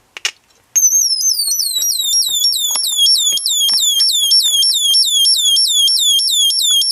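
An electronic bird-chirp generator, built from one multivibrator driving another, repeats fast rising and falling chirps loud and close, rapid and steady in rhythm, with faint handling clicks underneath.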